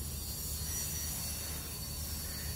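Oxygen rushing from one cylinder into another while refilling a 10-litre oxygen bottle, a steady broadband hiss with a low rumble underneath, constant and unbroken throughout.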